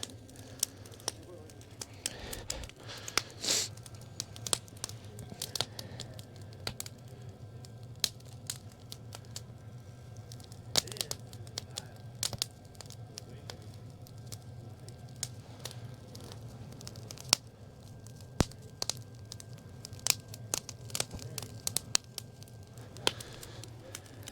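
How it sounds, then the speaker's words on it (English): A campfire burning in a collapsible fire pit outdoors gives off faint, scattered crackles and pops in an irregular rhythm over a low steady background hum. "But I've got my fire going here."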